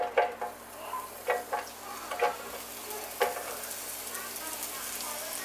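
Onion frying in a pan for mac and cheese with beef mince: a soft, close sizzle with several stirring scrapes early on, then a rising hiss toward the end.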